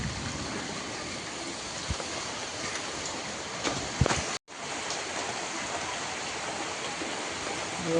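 Heavy rain pouring with floodwater rushing and pooling around a house near a pond, a steady broadband hiss that stays loud and constant, broken only by a brief knock and a momentary dropout midway.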